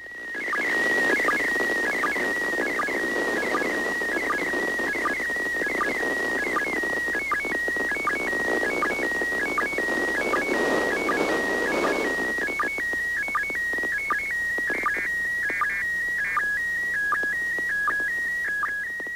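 Continuous warbling slow-scan television image transmission tones hop between a few pitches in a steady pattern over a bed of radio static, with no voices.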